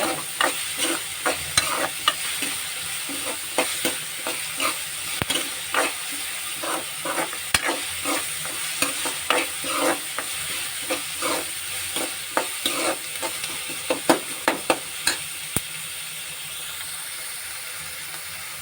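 Onions and tomatoes sautéing in a pan for an egg stir-fry: a steady, close sizzle runs throughout, broken by frequent scraping and tapping strokes of a stirring spoon, with no talking.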